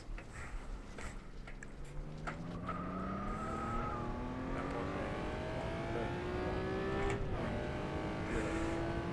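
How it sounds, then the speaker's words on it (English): A Honda NSX racing car engine in the video game rFactor 2 revs and climbs steadily through the gears on the Top Gear Test Track, a continuous rising whine with a brief dip midway, loud and close. "Good engine sound coming from this car."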